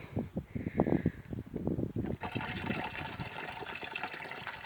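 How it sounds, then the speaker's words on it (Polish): Vinegar is poured into a container holding about five liters of water to make a homemade aphid spray, with splashing glugs at first that turn into a steady gushing stream. "jak ja tu wlałem sobie 5 litrów wody, to jakieś pół litra octu sobie wlejemy"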